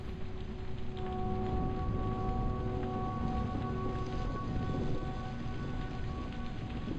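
Steady rain falls in the video game Nophenia, a constant hiss of drops pattering on surfaces with faint tonal game sounds underneath and no voices.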